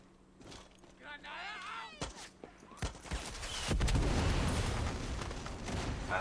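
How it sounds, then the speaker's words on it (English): A firework gun fires in the video game Far Cry 6, a rapid volley of crackling bangs and bursts building into a dense, noisy barrage, with someone talking over the early part. "Thank the Lord for this firework gun."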